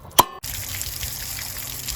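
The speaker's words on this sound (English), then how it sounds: "the water is going to drain out of there" Water draining from a travel trailer's hot water tank after the drain plug is pulled, a steady trickling gush that stays fairly loud and even after a brief sharp knock at the start.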